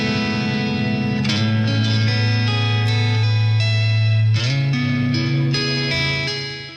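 Guitar shimmer tone from a Boss GT-1000 patch, sustained chords with bright, reverberant, pitch-shifted overtones shimmering above, loud and continuous before fading at the end, with no talking.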